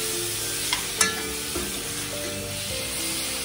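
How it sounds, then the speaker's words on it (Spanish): Bacon sizzles steadily in a hot pan, a constant crackling hiss with a couple of brief clinks from stirring. "Y ahora vamos a freír nuestro bacon que quede doradito."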